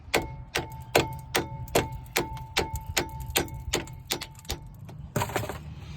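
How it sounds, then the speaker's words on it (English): Repeated metallic taps on vice grips while knocking the outer tie rod bolt out of the steering knuckle on a 2007 Buick Lucerne 4.6L, a dozen sharp, evenly spaced ringing hits close by, with a brief rattle at the end. "gently tap on the vice grips or whatever you're using to remove this bolt from the steering knuckle"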